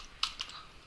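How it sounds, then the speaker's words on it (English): Two soft, quick keystrokes on a computer keyboard while messages are typed in, close and quiet, with no one speaking. "So here if I now start typing the messages"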